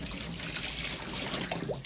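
Boiled water with descaler is poured into a kettle, a steady close gurgling splash and trickle running continuously without pause, with no voices.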